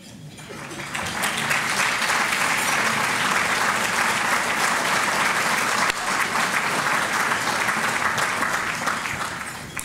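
A room full of people at an annual meeting applauds board members loudly and steadily, the clapping building quickly and holding for nearly ten seconds.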